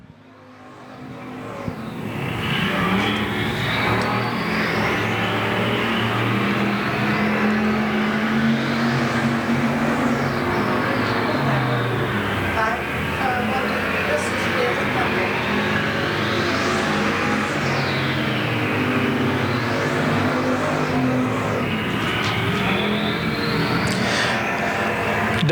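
Race cars on the Golden Triangle Raceway Park track during the final laps of the Spring Havoc race, engines roaring loudly and continuously as cars sweep past one after another, with rising and falling pitch at each pass.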